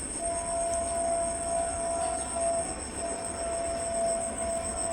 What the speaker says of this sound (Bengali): ট্রেন যাচ্ছে, আওয়াজ পাওয়া যাচ্ছে পেছনে।